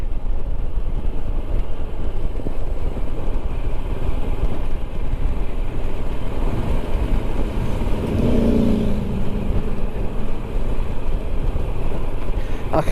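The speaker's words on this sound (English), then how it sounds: "the bike's coming here, look" A Royal Enfield Himalayan motorcycle approaches through steady wind and road rumble, its engine tone building faintly and briefly around the middle of the passage.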